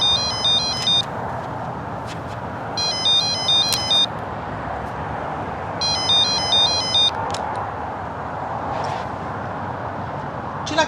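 A phone rings in three short electronic bursts of repeating tones, each about a second long and spaced a few seconds apart, over a steady murmur of room ambience with no speech.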